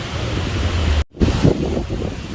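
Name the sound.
strong wind at Phoenix Beach at night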